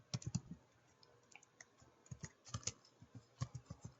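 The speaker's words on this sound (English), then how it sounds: "I'm looking and typing at the same time, can be a little tricky." Quick bursts of keystrokes on a computer keyboard, clustered irregular clicks with short pauses between runs, close and fairly quiet, with no talking.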